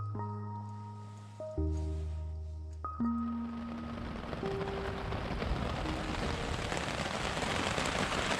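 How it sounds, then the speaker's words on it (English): Dense, even rain patters on a surface during a thunderstorm in the Quetico wilderness, starting softly and building to a steady heavy downpour. A few sustained tones fade out early on. "Pretty crazy storm going on out there right now."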